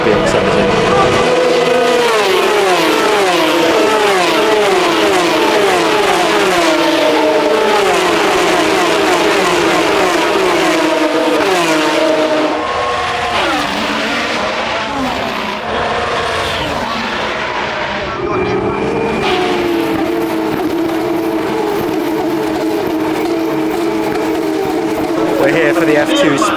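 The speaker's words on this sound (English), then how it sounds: "We are seated, ready for the F3 sprint race." Formula 3 cars race in the F3 sprint at Monza during the Italian GP. Engines whine loudly and continuously, rising and falling in pitch as the cars pass, heard from the grandstand with crowd noise and some talk.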